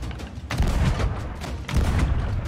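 Cannons firing during a boss battle in the Sea of Thieves video game, several deep booming blasts with rumbling tails, loud and close, overlapping one another.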